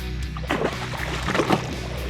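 A hooked snakehead thrashes in shallow muddy water during a rainy fishing tournament, giving a few close, wet sloshes and splashes in quick bursts over a low rumbling background.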